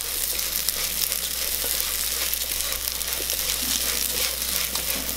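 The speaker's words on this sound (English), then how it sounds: "Mix everything well again." Rice being stirred with curry powder and sea salt in a pan for Thai-style Hainanese chicken rice, a steady close scraping and sizzling hiss with no talking.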